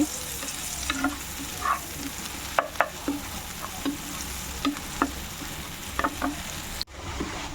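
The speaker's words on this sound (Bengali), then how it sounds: "আমি এখানে আগে পেঁয়াজটা ভালোভাবে একটু বাদামি কালার করে ভেজে নিচ্ছি" Chopped onions fry in hot oil until brown for a prawn bhuna, giving a steady close sizzle with regular stirring scrapes and soft pops throughout, and no voices.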